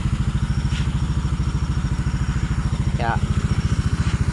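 Yamaha Aerox 155 scooter engine idling steadily after an ignition coil repair, a close, even putter with light clatter and a brief voice.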